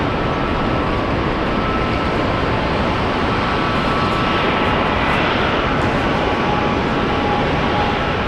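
A Qantas airliner at Brisbane airport gives a steady, loud broadband jet roar that fills the whole span without a break, with no voices over it.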